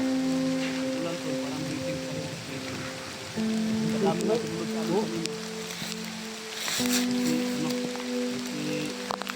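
Continuous patter of rain under a steady low engine hum, with people talking intermittently in the background.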